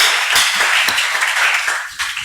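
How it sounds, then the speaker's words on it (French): Congregation at a French-language Christian crusade service clapping loudly and steadily, a dense sustained roar of many hands with scattered louder claps and cheering, close and continuous. "Acclamons très fort notre Seigneur"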